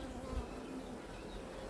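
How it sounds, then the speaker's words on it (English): Honey bees buzzing around an opened hive during an inspection, a soft continuous drone that stays steady and fairly faint, with no talk. "Lots of bees in here"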